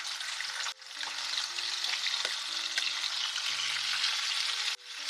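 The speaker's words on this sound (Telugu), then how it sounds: "ఉల్లిపాయలు వేసేస్తున్నాను" Chopped onions frying in a pan, giving a steady, close hiss of sizzling oil that runs continuously, with faint scraping of a stirring utensil and a brief break near the start.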